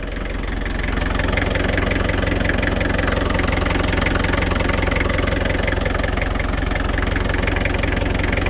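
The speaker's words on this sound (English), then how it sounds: "we fitted this engine about maybe 5 years ago, and as you can tell, it's very quiet, no knocks or bangs." A Land Rover diesel engine idles steadily and loudly up close, a fast even mechanical clatter that rises as it settles in, then holds a smooth rhythm without knocks.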